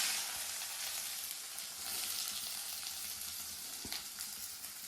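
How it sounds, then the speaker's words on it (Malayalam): Onions frying in hot coconut oil for a toddy-shop style chicken varattiyathu: a dense, continuous sizzle with faint stirring scrapes, steady and close, no talk. "നല്ലോണം ചൂടായി പോയിട്ടുണ്ട്. അപ്പൊ നമുക്ക് തന്നെ ഉള്ളി ഇട്ട് കൊടുക്കാം."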